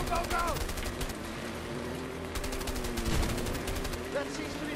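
Rapid bursts of gunfire from the video game A Way Out crackle continuously, with excited talk over the shooting throughout.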